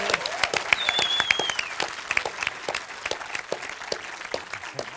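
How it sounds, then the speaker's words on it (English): Audience applause for a contestant at a science communication competition final, lively and uneven with sharp individual claps near the mic and a brief whistle rising over the crowd early on. "Let's give Michael another big round of applause."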